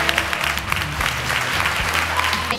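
An audience at a school-funding event claps in a dense, steady burst, many hands at once filling the room evenly for a couple of seconds.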